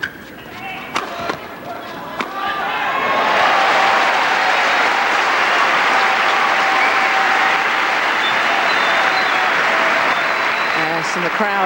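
Badminton crowd in Birmingham at an All England Open men's doubles semi-final cheering and applauding loudly to encourage the Indonesian pair, swelling after a few racket hits into sustained roar.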